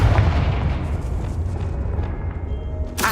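A Confringo spell blasts in Hogwarts Legacy with a deep, rumbling boom that rolls on and fades, and a sharp burst lands right at the end.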